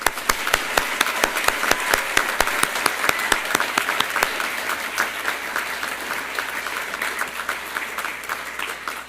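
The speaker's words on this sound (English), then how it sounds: "let's give one round of applause for all of our graduates" A round of applause for Ph.D. graduates at a hooding ceremony, with crisp individual claps up front over a broad crowd clapping that gradually thins out.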